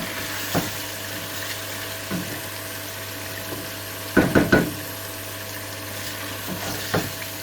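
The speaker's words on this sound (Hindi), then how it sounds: "तो ये हमने मसाला जो है इसका रेडी कर लिया। अच्छे से मिक्स करेंगे।" Masala for chicken matar korma being mixed in a pan: a soft, steady sizzle with a few scraping stirs, including a quick cluster of louder strokes midway. No talking.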